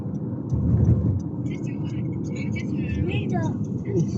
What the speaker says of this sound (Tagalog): Traffic oh. Tingnan nyo mga sasakyan oh.